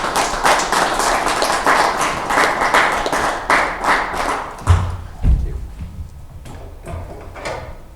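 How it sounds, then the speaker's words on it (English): An audience applauds to welcome a speaker onto the stage at a conference opening, a dense burst of clapping that thins out and ends in a few scattered thumps and claps. "Round of applause for him, please."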